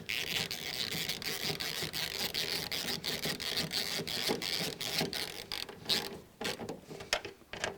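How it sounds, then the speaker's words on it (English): Ratchet wrench tightening bolts on a front disc brake assembly, a steady run of fast metallic clicks and mechanical rattling close by, with a few pauses and louder clacks near the end. "And I can now tighten each one up."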